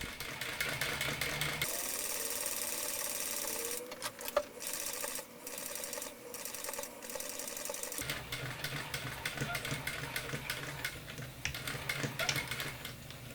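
A sewing machine stitches zipper tape to a facing on a Star Trek engineering radiation suit costume, a steady close motor whir running nearly throughout with a brief pause in the middle.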